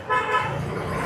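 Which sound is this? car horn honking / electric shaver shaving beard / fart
car horn honking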